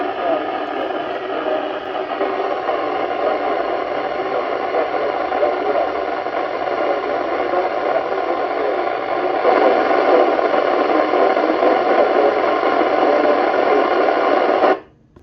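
A steady VHF repeater transmission comes through a Yaesu FT-991A receiver as a continuous hissy, buzzing signal, holding for many seconds before cutting off abruptly.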